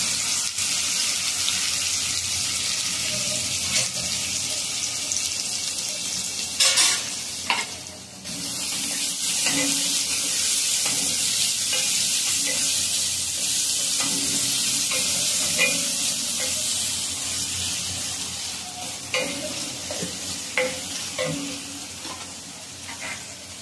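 Onion fries with asafoetida in a pan, giving a steady bright sizzle with scraping stirs and occasional clinks, close and continuous with no talking.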